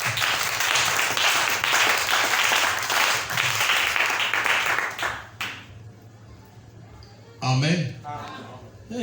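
Church congregation applauding the Lord, loud dense clapping that fills the room for several seconds, then fades into quieter murmuring, with a voice briefly calling out near the end.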